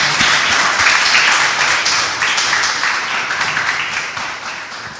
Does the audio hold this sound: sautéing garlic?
no